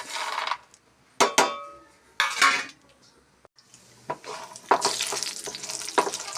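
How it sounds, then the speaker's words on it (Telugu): Urad dal and peanuts fry in a spoonful of oil in a pan: sharp clanks of a metal spoon against the pan, then stirring scrapes over a steady, close sizzle. "1 స్పూన్ ఆయిల్, ఇందులో మినప్పప్పు, పల్లీలు ఫ్రై చేసుకోవాలి."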